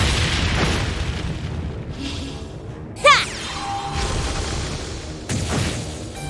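Brionac cannon fire in Trails of Cold Steel III: a sharp, loud blast with a whooshing sweep lands mid-clip over a rumbling game backdrop, followed later by a second, softer boom.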